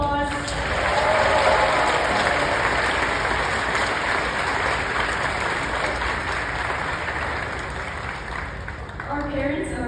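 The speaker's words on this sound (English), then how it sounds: "So let's all give them a huge round of applause." A large crowd applauds at a graduation ceremony, a thick, continuous wash of clapping and crowd noise, loud and sustained throughout, easing slightly at the close.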